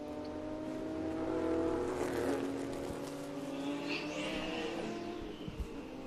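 A race car on the Virginia International Raceway circuit during a vintage and feature race weekend, its engine rising as it approaches and then passes, steady tonal engine drone with a swelling pass-by, moderately distant.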